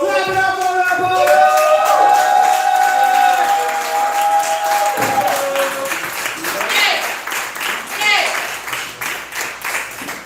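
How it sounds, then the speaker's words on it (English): Poetry slam audience at the Southern Fried Poetry Slam claps and cheers for a team member, with dense applause under loud sung or shouted voices and crowd noise carrying through to the end. "Clap it up for that boy!"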